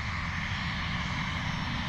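A NetJets-type business jet taking off at Cleveland Hopkins airport, heard as a steady, loud, broadband engine roar that holds constant without letup.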